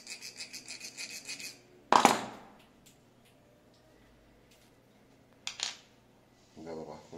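Hand finishing the spherical part of a firing pin with a file, a quick run of rasping strokes, then a sharp scrape and clatter, a long quiet pause and a few more brief strokes.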